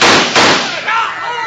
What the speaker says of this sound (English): a group of strange riders stormed up and started shooting